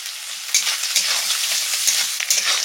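Prawns fry in hot oil, a steady loud sizzle with crackling pops throughout and no talking.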